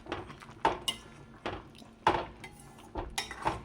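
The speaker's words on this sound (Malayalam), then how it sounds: "ഒന്ന് ഇളക്കി കൊടുക്കാം." A spoon stirs olan, a Kerala sadya curry, in a metal pot with a few clinks and scrapes of metal on metal, spaced out irregularly and close by, with no talking.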